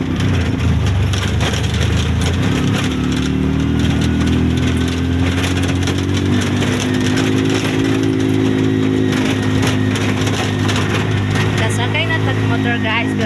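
Motorcycle engine running while riding toward a highway, a steady low droning hum with wind and road noise, continuous and close, with faint background sounds but no clear talk.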